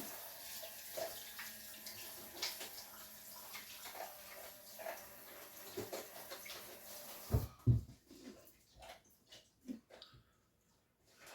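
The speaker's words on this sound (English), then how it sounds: "Now, I'm going to wash off my hands." Hands are washed under a running kitchen tap, a faint steady flow of water with a few splashes. Near the end the water stops and gives way to quieter handling noises.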